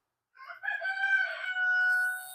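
A single rooster crows once, a drawn-out, close cock-a-doodle-doo that rises and holds before fading.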